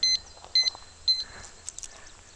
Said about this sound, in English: As you heard, it already beeped once